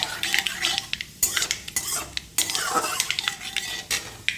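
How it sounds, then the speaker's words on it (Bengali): Mustard seeds and fenugreek fry in ghee for sambar dal, a close metal spoon scraping and clattering against the pan in quick bursts over a light sizzle. "রাই সর্ষেটা, মেথিটা, ঘিটা যেন খুব ভালো করে ভাজা ভাজা হয়ে যায়"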